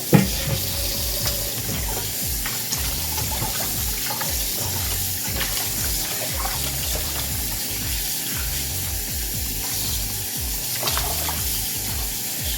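Hot water runs steadily from a kitchen tap into a sink as quail are cleaned with water and vinegar, a continuous loud splashing rush with no talking.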